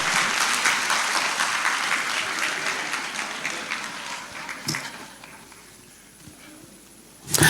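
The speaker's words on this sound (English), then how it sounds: "with a rapturous round of applause" Rapturous audience applause for the guest of honor at the CIB Ghana 60th anniversary launch, dense loud clapping that gradually thins and dies away, then a sudden burst of noise at the very end.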